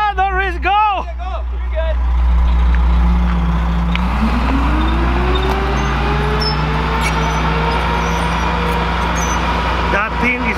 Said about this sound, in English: the truck is here